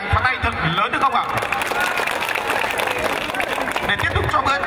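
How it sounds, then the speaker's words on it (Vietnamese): Audience applause at a traditional village festival's evening music show, a dense, steady wash of clapping from a crowd that holds at an even level throughout with no break. "xin quý vị dành một tràng pháo tay thật lớn được không ạ?"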